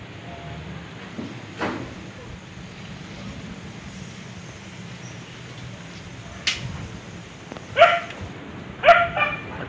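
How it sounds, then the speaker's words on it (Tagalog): A dog barks a few times near the end, short and moderately close, over steady typhoon wind and rushing background noise. "Ito yung aso po."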